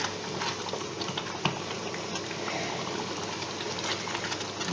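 Bolognese sauce simmering and reducing in a pan over medium heat, a steady close hiss and crackle of bubbling with scattered small pops, continuous and without voices.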